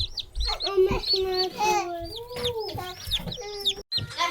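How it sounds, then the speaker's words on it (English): Several Rhode Island Red hens cluck and chatter close by in a busy, overlapping flock, with a voice mixed in among them. "our Rhode Island Reds are all hens"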